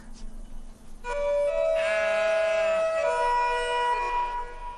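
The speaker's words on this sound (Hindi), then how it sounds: "गोरी भेड़ नहीं, मेंढा है।" A ram bleats loudly and at length close by, a strained, wavering cry that holds and rises over several seconds, with no talk.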